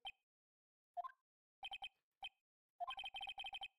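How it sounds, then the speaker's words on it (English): A cell phone ringtone plays in a courtroom video game scene as a faint electronic melody of short beeping notes, with pauses between phrases and then a quicker run of repeated tones. "I'm going to call my cell phone now"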